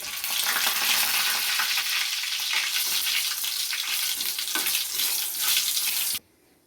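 Mustard seeds, fenugreek, cumin and dried red chillies fry in hot oil with a loud, steady sizzle and crackle. The sizzle stays dense throughout, then cuts off abruptly near the end.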